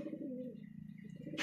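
Pigeons at a market sale, a close, quiet, rolling coo sustained through most of the moment, ending with a brief sharp rustle.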